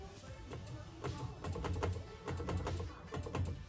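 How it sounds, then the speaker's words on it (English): Rapid small clicks from a 1995 Honda Civic's horn relay tap away in quick irregular bursts, fairly quiet and close with no talking. "I can hear the relay clicking whenever I press this."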